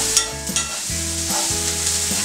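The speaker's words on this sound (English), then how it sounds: "Now we're nearly done with sauteing the tomatoes and onion" Tomatoes and onion sautéing in a pan, a steady close sizzle broken by repeated scraping stirs of a spoon against the pan, no voices.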